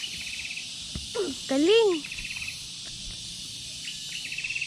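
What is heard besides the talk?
crickets chirping outdoors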